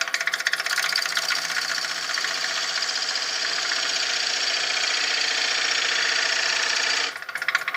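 Wood lathe turning while a gouge cuts into the spinning piece, defining a tenon. A steady, rattling, close machine drone with scraping cut texture runs continuously, then stops just before the end.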